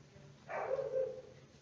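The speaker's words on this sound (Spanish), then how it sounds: "allá de fondo se escucha un perro" A neighbour's dog gives a single short bark or yelp somewhere in the background, faint and distant against a quiet room hiss.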